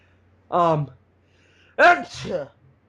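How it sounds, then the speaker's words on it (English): A short, sharp sneeze up close, followed by a brief voiced exhale, with quiet gaps around it. "I've never sneezed right before ending a podcast."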